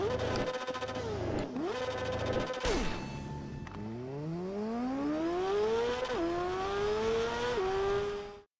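A Kawasaki motorcycle engine in TT Isle of Man Ride on the Edge 2, revved loudly in several quick rises and drops, then climbing in long pulls through the gears before cutting off abruptly.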